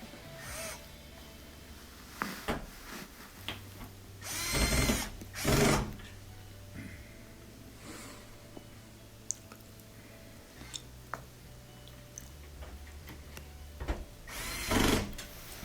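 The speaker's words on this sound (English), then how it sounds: "then we'll add those 2 Phillips head screws" A power driver sets Phillips head screws into the front panel of an LG washing machine during a drain repair, giving a few short whirring bursts with faint clicks and handling noise between them.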